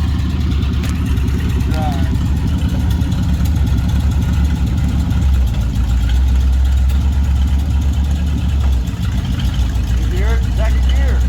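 Engine of a 1955 Dodge running steadily with a secondhand transmission as it shifts into second gear, a loud continuous low rumble with a brief dip in revs, while people talk over it.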